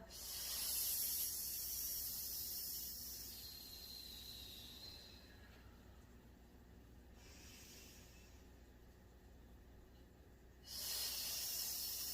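A slow, deep breathing-exercise exhale, a soft airy hiss that swells loud at the start, tapers into a long quiet stretch, then rises again near the end, heard alone without talk.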